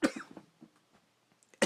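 Recorded coughing: a burst of several quick coughs at the start, then a few fainter scattered throat sounds, and a final sharp cough at the end, fairly quiet overall.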